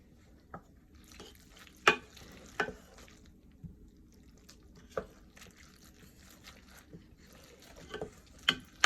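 Macaroni and cheese is stirred in a pot, soft faint scraping and wet squelching with a few sharper clicks of the spoon against the side, scattered and quiet.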